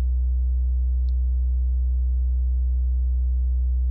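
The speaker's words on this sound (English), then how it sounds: "And now when I play my 808, it sounds like this." A looped 808 bass sample, pitched higher and played in Reason, holds as one steady, loud, buzzy sub-bass tone with rich harmonics for the full four seconds without fading, alone and with no voices.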